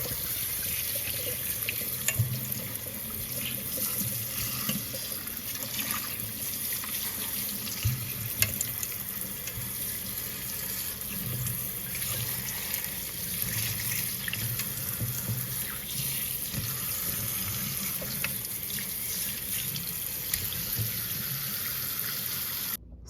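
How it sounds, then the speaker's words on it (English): Tap water streams steadily into a kitchen sink while beef short ribs are rinsed, a constant close splashing hiss lasting throughout with small irregular splatters and no speech. "We're just gonna rinse our meat off,"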